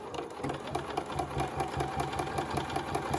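Sewing machine back stitching the seam of a fabric wristlet strap, a steady close hum with a fast even needle rhythm running without a break, with no voices.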